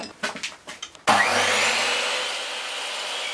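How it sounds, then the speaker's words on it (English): A miter saw trims the front piece of a curved-front wooden box, starting with a sharp loud onset and a sustained whining cut that slowly fades, preceded by a few brief knocks and handling sounds. "And I just trim this up using the miter saw."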